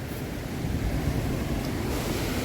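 Steady, powerful roar of a large waterfall in Venezuela, a dense broadband rush of falling water that holds constant throughout with no voices over it.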